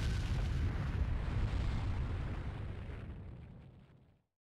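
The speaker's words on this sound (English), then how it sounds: "an explosion!" A huge explosion in the Naruto Shippuden video game erupts at once as a loud, dense roar that holds steady for several seconds, then thins and fades before cutting off abruptly.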